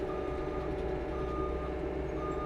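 Steady, evenly spaced reversing beeps sound from a hay squeeze loader backing out onto a loading dock, over a constant low engine rumble.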